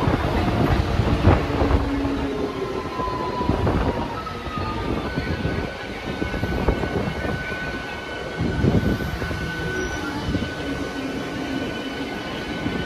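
A MEMU Express train rumbles into Yerrupalem station with rhythmic clacking of wheels over rail joints, steady and close, while long tonal squeals and hums drift through as it slows.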